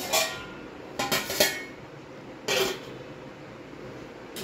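Metal lid and perforated steel plate clatter as steamed palm-leaf pithas are arranged and covered, a few sharp clinks and clanks in separate bursts, close and fairly quiet.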